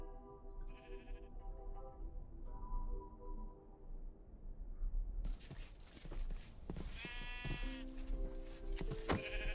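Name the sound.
sheep bleating in the video game Minecraft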